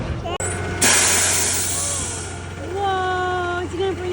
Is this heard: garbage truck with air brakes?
yes